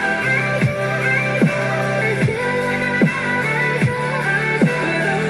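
Excerpt of an electronic dance music song, with sustained synth chords and a regular thumping pulse falling in pitch, loud and full, no voices over it.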